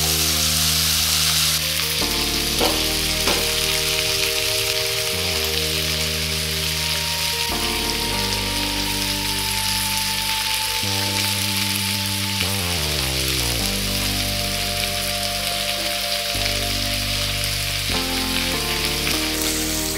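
Chicken and chopped vegetables sizzle steadily in a pan for a chicken stew, a continuous hiss running the whole time beneath loud tonal background music.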